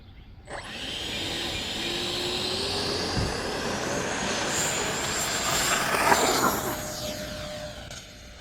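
A small jet-like whine from an E-flite F-15 Eagle 64mm electric ducted fan model jet starts abruptly, holds steady as a loud high-pitched whirring, then swells and shifts pitch as it passes overhead.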